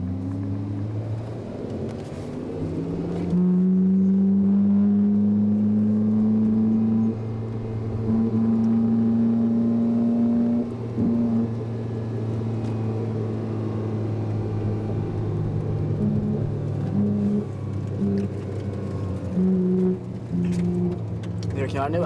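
Supercar engines, a Koenigsegg Agera racing a Ferrari 458 Italia, drone and rumble loudly with shifting revs and rising, falling tones through most of the stretch, close and sustained.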